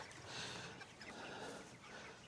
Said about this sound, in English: brand new chickens coming out on grass for the first time